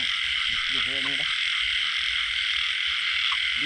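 Frogs croak near a water source at night during frog hunting, a short run of harmonic croaks at first, then one faint call, all over a dense, steady insect and night chorus.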